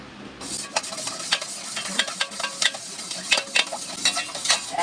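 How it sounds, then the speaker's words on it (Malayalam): A spoon stirs a pickle and buttermilk soda mixture in a glass, giving a steady run of close clinks and scrapes in an uneven rhythm with a soft fizzing wash underneath. "അപ്പോൾ ഇനി നമുക്ക് നന്നായി ഇളക്കി കൊടുക്കാം"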